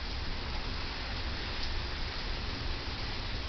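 Steady rain pours down during a thunderstorm, a dense, even hiss of falling water that stays constant throughout with no voices.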